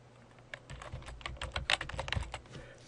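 Close keystrokes on a computer keyboard, a quick burst of irregular clicking that starts after a brief pause and runs to the end.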